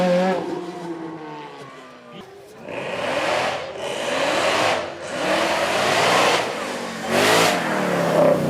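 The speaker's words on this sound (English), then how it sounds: "We had an F430 in the sound off yesterday, sounded glorious then, sounds even better." A Ferrari F430 with its 4.3-litre V8 revs and accelerates hard at a supercar weekend, loud and close, with rising and falling engine sweeps in several bursts after a brief lull.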